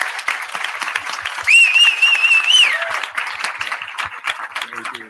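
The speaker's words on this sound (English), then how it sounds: "quick round of applause, especially for the student volunteers" Audience applause at a keynote panel on bossware and algorithmic management, a moderate round of clapping building in the middle with a whistle-like tone riding over it, then fading as a voice talks on top.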